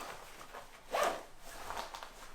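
Zippers being worked on a Klim Hardanger one-piece motorcycle suit, a short close zip burst in the middle between softer fabric rustles and handling sounds, with no talking.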